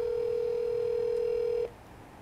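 Blue light emergency telephone box on a university campus emitting a steady, loud ringing tone toward the control room that holds for about a second and a half, then cuts off abruptly to quiet background.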